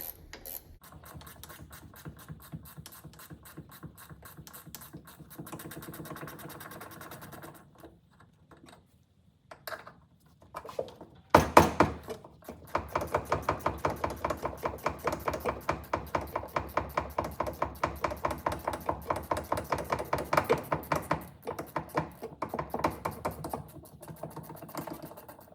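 A ratcheting wrench works loose 9/16 bolts on the rear leaf springs of an MGB, rapid clicking ratchet strokes in bursts, sparse at first and then a long steady run of close, fast clicks; no talking.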